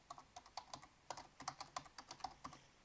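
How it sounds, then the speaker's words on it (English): A web address being typed on a computer keyboard, heard as a quick, steady run of about twenty close, quiet key clicks with no voices. "I will type the website which I have just created"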